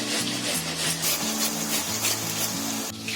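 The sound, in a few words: grating tomato for prawn biryani gravy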